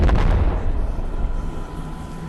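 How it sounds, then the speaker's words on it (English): Flashbang grenades go off in a video game: a heavy, booming blast at the start that decays into a long, rumbling, noisy tail, loud and close, with no voices. "Flashbangs in there."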